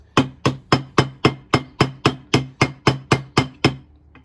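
Twelve evenly spaced metallic blows from an old ball peen hammer striking a pin through a machete handle, each sharp and close, ringing out alone in a steady rhythm.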